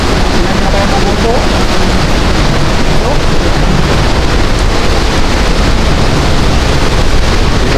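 Super typhoon wind at Baler, Aurora blasts continuously and loudly, a dense, rumbling roar of gusts battering the microphone from start to finish.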